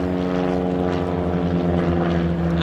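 Small propeller aeroplanes of the Royal Norwegian Air Force Yellow Sparrows fly a display at RIAT, their engines giving a steady, close, buzzing drone with a strong throbbing hum throughout.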